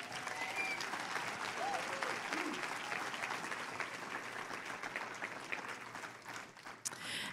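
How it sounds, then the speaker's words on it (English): Applause from a church congregation, soft and distant, a sustained patter of many hands that continues evenly with a little crowd noise. "I believe they deserve an extra round of applause."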